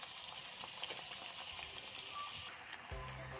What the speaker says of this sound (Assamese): মই 4টাকৈ দি ভাজিছোঁ।